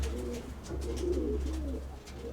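Pigeons coo softly inside a dovecote, several throaty rolling calls over a steady low hum, with faint rustling in the background.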